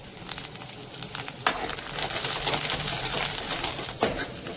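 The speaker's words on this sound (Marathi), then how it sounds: "1 मिनिटभर हाय फ्लेमवरती मी ह्याला छान परतवून घेते तेलामध्ये." Crushed garlic and curry leaves, with a little chopped coriander, fry in hot oil over a high flame, giving a steady crackling sizzle with a few sharper pops and some soft stirring throughout.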